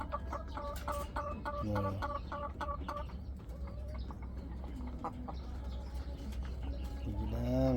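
Rhode Island Red hens on a farm clucking in short repeated bursts, with a rhythmic run of calls early on and another rising call near the end over steady low background noise; a person talks quietly nearby.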